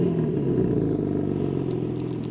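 A 2025 BMW M3 Competition engine running after a remote start, with a steady, loud, low idle rumble filling the whole stretch. No speech is heard.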